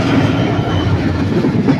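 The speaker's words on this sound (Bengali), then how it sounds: "ওই যে দেখো একটা ট্রেন যাচ্ছে" A train rolling past close by, a heavy rumbling clatter of wheels on track that stays loud and steady throughout.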